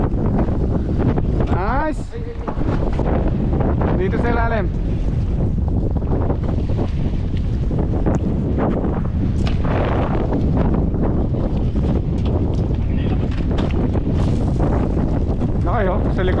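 Strong wind batters the microphone on a fishing boat out on open water during a kingfish hunting trip, roaring steadily throughout with buffeting gusts, while people talk intermittently over it.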